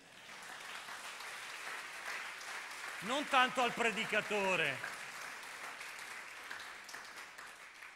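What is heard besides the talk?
congregation applauding in church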